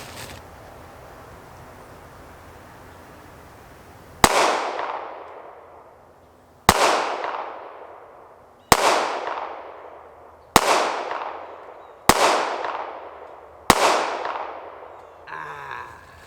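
Six sharp pistol shots from a Ruger LCP Max fired at a target 15 yards away on an outdoor range, loud and close, evenly spaced about two seconds apart, each followed by a short ringing decay, with no talking.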